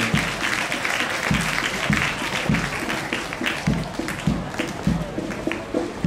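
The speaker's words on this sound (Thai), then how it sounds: "ขอเสียงปรบมือให้กับลูกเสือชั้นม .1 หนึ่ง" A crowd at a school scout parade at Khanuwittaya School applauds grade 7 scouts with continuous, fairly loud clapping, while dull thumps recur at regular intervals beneath it.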